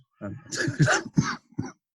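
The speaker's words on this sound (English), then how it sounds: "it's a nasty cough I've got" A few harsh, close coughs in quick succession, loud and throaty, with no speech.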